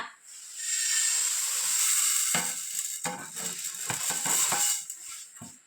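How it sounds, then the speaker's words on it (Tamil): Rice is dry-roasted in a kadai for homemade idli batter, giving a steady, bright hiss with scraping and stirring clatters that come and go. "நம்ம காய வச்சு எடுத்து வந்துருக்கோம்ல அரிசியை இந்த கடாயில் சேர்த்துக்கோங்க"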